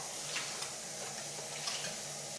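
A small child stirs a mixture in a pot while cooking, a steady soft scraping and swishing over a faint sizzle, close and continuous, with no talking.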